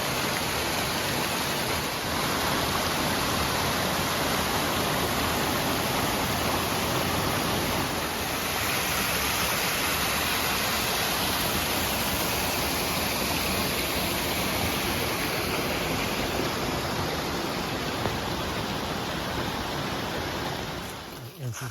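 A steady, loud rush of falling water from a waterfall beside a hiking path fills the whole stretch evenly and continuously, with no pauses and no voices audible.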